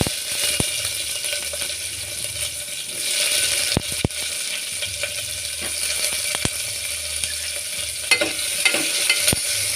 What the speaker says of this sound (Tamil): வெங்காயம் கொஞ்சம் வதக்கிக்கணும்